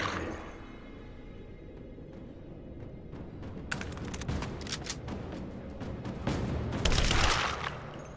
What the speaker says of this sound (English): I'm shooting at the darkness.